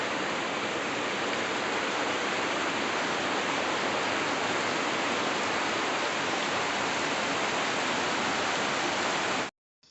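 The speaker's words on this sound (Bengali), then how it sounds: "এই বৃষ্টির আওয়াজটা না শুনতে বেশ দারুণ লাগে" Heavy rain pours steadily in a broad, dense roar, loud and continuous throughout with no voices, cutting off abruptly just before the end.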